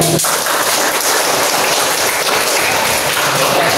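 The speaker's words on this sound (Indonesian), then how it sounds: "Kasih tepuk tangan" Steady, dense clapping from a class of primary school pupils in a PE lesson, a loud continuous patter filling the whole stretch with no voices over it.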